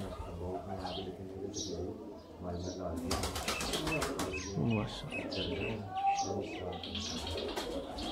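Sialkoti pigeons coo and chirp close by, with a burst of wing flapping partway through, while someone talks over the birds throughout.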